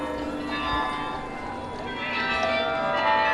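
Church bells in Bruges ring out from a short distance, overlapping tolls sounding steadily and swelling slightly toward the end, with a voice speaking over them.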